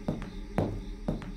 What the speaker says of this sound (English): That was the sound of a chair moving,